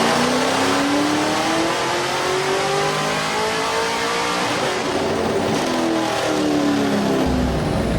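A Cadillac fitted with Akrapovic exhaust tips revs hard, a loud continuous engine roar whose pitch sweeps steadily upward and then dips, dense and close throughout with no talking.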